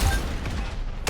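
Rapid automatic gunfire from the arena shooter Diabotical Rogue rattles on continuously at close range, a dense broadband burst ending with a sharp louder crack.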